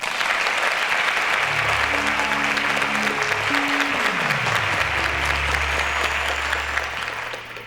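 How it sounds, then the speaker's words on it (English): A game-show studio audience applauds loudly and steadily for several seconds while stepped musical tones play underneath, the clapping fading out at the very end. "a round of applause to Musa"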